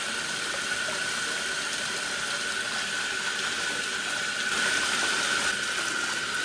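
Water pours steadily into a jetted bathtub, a loud, continuous gushing rush with a constant hum underneath and no talking.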